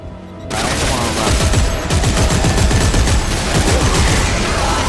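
Sustained rapid automatic gunfire in the sci-fi shooter Dead Space 3 played in co-op, loud and continuous after a brief quieter opening, with a voice shouting briefly.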